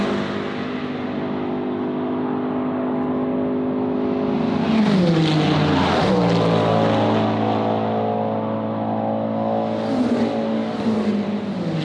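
Endurance race cars of several classes and propulsion types on track at the 6 Hours of Spa, engines roaring loudly and continuously, with cars passing close by and revving in waves, pitch sweeping as they go past.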